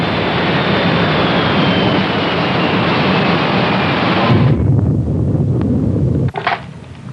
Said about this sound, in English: Crash, crash, crash. Aircraft crash, 1/2 mile final, runway 2000.